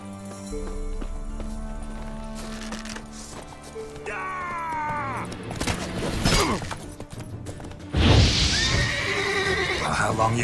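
A horse in The Witcher video game whinnies loudly in a rising, shaky call midway, amid game music, clip-clop and a crash, with voices talking around it.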